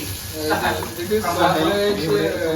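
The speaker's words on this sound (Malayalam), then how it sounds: "Sausage fry അടിച്ചോണ്ടിരിക്കുക." Sausages frying in a pan in a home-style kitchen give a steady sizzle with crackling swells, heard close alongside voices talking over the cooking.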